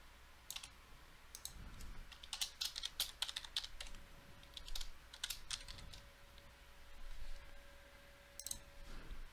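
Someone types PowerShell code on a computer keyboard in quick uneven bursts of close, soft key clicks with short pauses, while a faint steady tone hums in the background.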